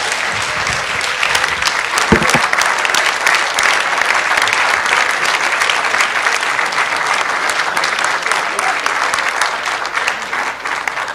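Sustained audience applause fills a hall during Aung San Suu Kyi's talk at Asia Society, a steady dense wash of many hands clapping at even loudness throughout, with no voices rising above it.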